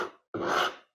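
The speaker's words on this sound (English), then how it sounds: "if I take a rasp and come this way with it" A rasp scrapes across plywood in two short strokes, a brief scratch and then a longer, louder rasping drag, close up with no voices.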